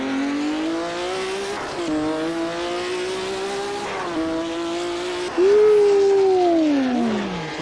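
A 1200 horsepower race car in the racing game Assetto Corsa roars loud and close, its engine pitch climbing through gears with brief drops at shifts and a sharp surge near the end.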